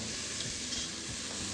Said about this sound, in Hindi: ब्राउन हो जाए आप प्याज को पैन में डाल दें। फिर फौरन ही ऊपर से 1 टेबलस्पून सिरके का डाल दें